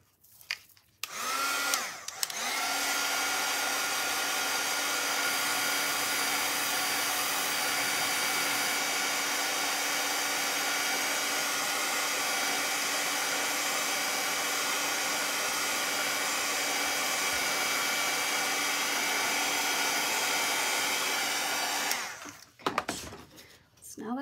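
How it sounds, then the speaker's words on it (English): A heat gun blows a steady, loud whooshing hiss for about twenty seconds while drying paint on a wooden sign, with brief handling noises before it starts and after it shuts off. "Let me bust out my gun here real quick, my heat gun."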